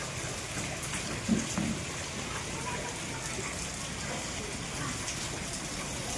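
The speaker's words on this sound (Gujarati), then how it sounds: "વરસાદ જ એવો પડે છે ત્રણ ચાર દિવસથી" Rain falls steadily in Botad, a continuous hiss of drops on surfaces that runs at an even level throughout, with no clear speech heard.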